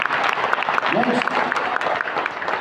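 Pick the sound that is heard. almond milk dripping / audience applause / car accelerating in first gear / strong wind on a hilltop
audience applause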